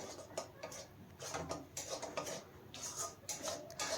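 A utensil stirs peas into broccoli curry in a pan, with quiet irregular scrapes and clinks of metal against cookware, soft and close, spread over a few seconds.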